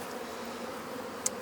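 Honeybees hum steadily and softly while swarms are moved into hives, a continuous close buzzing with one brief sharper sound near the end.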